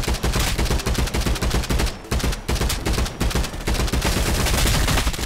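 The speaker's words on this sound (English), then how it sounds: "What are y'all shooting at?" Dense, continuous gunfire from many weapons in the video game Contractors Showdown, loud bursts overlapping almost without pause, with one brief lull near the middle.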